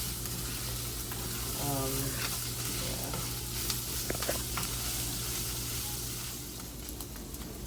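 Meat for a pizza burrito fries in grease in a pan, a steady broadband sizzle with a few scraping stir sounds and brief clicks, close and continuous throughout, with a constant low hum underneath.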